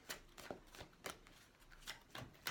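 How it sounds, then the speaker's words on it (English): Soft, quick riffles of tarot cards being shuffled, several short bursts in an irregular rhythm, close by and quiet with no talking. "That's a lot easier shuffling like this."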